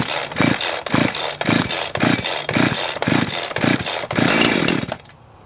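A chainsaw is pull-started with the choke out, giving about nine loud, rhythmic rasping cranks roughly half a second apart, close by, before it cuts off abruptly without catching.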